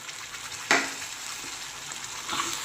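Tomato puree frying in a pan with onions and eggplant, a steady soft sizzle with a sharp burst as the puree hits the hot oil, then continued stirring.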